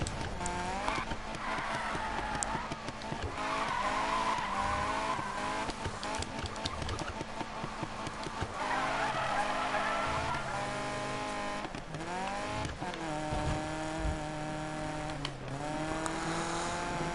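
A car races and skids with screeching tires and a roaring engine, loud and continuous throughout, with repeated squealing sweeps and no talk.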